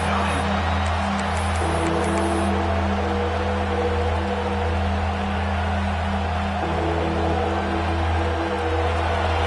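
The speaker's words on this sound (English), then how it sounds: "The roar of the crowd trying to fuel this defense to keep them pinned in their own end" Football stadium crowd at a college game keeps up a steady, dense roar throughout, broad and continuous with a constant low rumble and no clear breaks.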